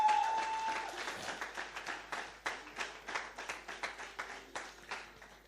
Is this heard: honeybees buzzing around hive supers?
no